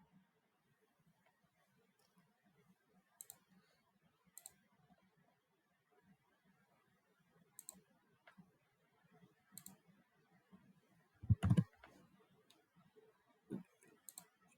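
Computer mouse clicking during a software session, sparse sharp clicks spaced seconds apart over a quiet background, with a louder thump near the end.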